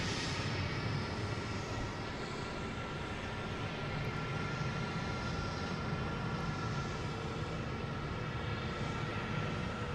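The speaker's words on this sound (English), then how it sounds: "All right, now we got a Delta coming in." A Delta Airbus A321neo airliner comes in to land at Boston Logan, its steady jet engine roar loud and continuous with a broad rushing hiss and no break.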